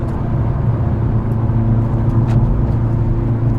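A Hyundai Veloster N engine hums steadily and close, a continuous low drone with slight rises in pitch as the car pushes quickly through a turn.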